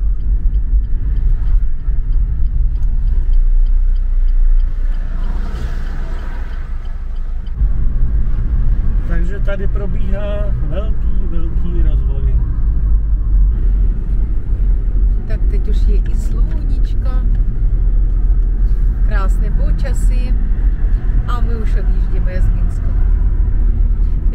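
A car drives through Minsk city centre on a weekday, with a steady low engine and road rumble heard from inside the cabin while people talk throughout.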